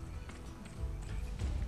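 Horse hooves clop in a quick running rhythm in the Western video game Gun, moderately close beneath a low rumble of other game sound.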